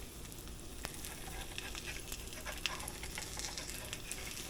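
An egg fries in a pan with a steady, close crackling sizzle, full of small pops and spits that keep going from start to finish.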